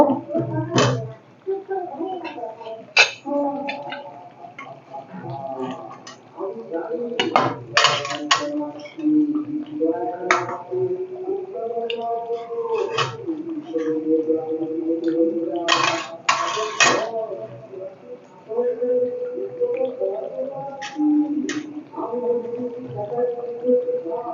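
Chicken curry meat being lifted out of a cooking pot with a metal spoon, bright clinks and scrapes against the pot coming in irregular bursts, close and fairly loud, with no talking.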